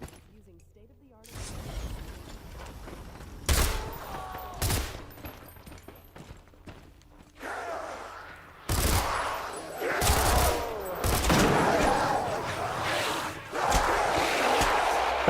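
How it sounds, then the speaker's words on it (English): Shotgun blasts in a first-person video game: several loud, sharp booming shots spaced a few seconds apart, with clattering and crowd-like noise between them, the action growing busier and denser toward the end. "I'm gonna try and use shotgun upon opening the door. 4 shots."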